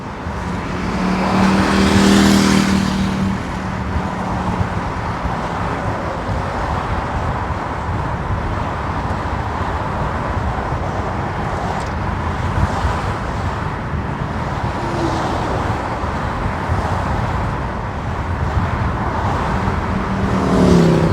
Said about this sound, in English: I'll try to get some of the noise from the traffic this time as well as I go over.